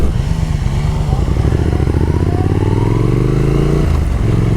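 Triumph Speed Twin motorcycle ridden at low speed around town, a steady close engine drone that rises gently as it accelerates, with faint talk over it.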